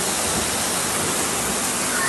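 Steady broadband rush of floodwater pouring through streets in Santo Domingo during Hurricane Melissa, loud and unbroken like a waterfall, with no distinct voices above the roar.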